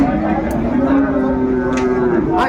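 Sahiwal breed bulls at a cattle market in Dinajpur, one drawn-out lowing moo carried over a dense, noisy background crowd murmur.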